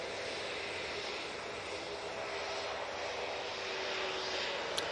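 A jet airliner in .com livery, bound for Athens at Manchester Airport, gives a steady moderate engine roar with a faint tonal hum, holding level throughout.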